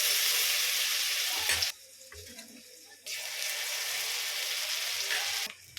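Stuffed eggs fry in hot oil for an egg curry, giving a loud, steady sizzling hiss that drops away briefly in the middle and again near the end before resuming.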